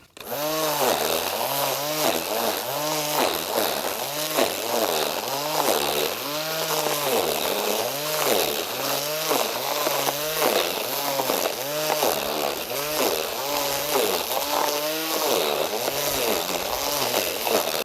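A high-pitched electric motor of an 18-volt Einhell GC-CT 18/24 Li cordless string trimmer whines close by, pulsing up and down rhythmically as grass is cut, with no talking over it.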